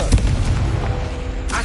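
A Confringo fire spell bursts with a heavy booming blast in Hogwarts Legacy, loud low rumble sustained through the short moment with a brighter flare near the end.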